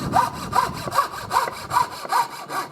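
A thin-bladed hand saw cuts through wood in steady, even back-and-forth strokes, about seven rasping pulls at close range with no talking.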